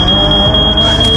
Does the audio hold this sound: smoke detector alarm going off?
yes